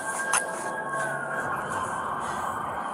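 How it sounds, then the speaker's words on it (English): Police sirens wail faintly in the distance, approaching, a thin rising and falling tone under steady background noise. "You can hear sirens approaching in the background."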